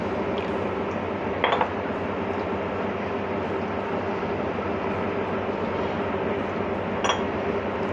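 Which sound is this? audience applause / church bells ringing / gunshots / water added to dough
water added to dough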